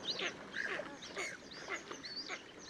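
Ducks and geese on a lake break into a frantic chorus of honks and quacks as a steppe eagle flies overhead, many birds calling at once at a moderate distance.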